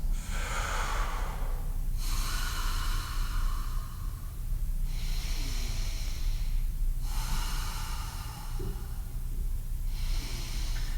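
Slow, deep breathing during a low back workout, three long airy inhale-exhale cycles close to the microphone, each breath drawn and released audibly with brief pauses between.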